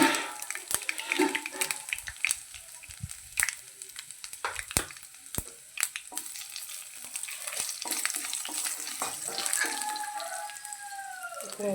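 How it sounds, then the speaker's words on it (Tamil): Mustard seeds and dried red chilies frying in hot oil, with sharp scattered pops and crackles over a faint sizzle, growing into a denser hiss toward the end. "இப்போ கடுகு பாதி பொரிஞ்சிருச்சு. இப்போ நம்ம காஞ்ச மிளகாவையும் இதில் போட்டலாம்."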